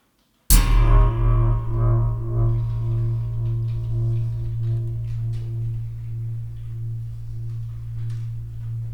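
A single sharp metallic strike on an IKEA lamp spring, then a long, ringing, resonant spring twang that sustains with wobbling tones and slowly fades over several seconds.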